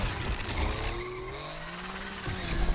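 A Subaru BRZ drifts in the racing game Need for Speed Unbound, with a steady engine drone under a continuous tire squeal and skidding hiss, loud and close for the whole stretch.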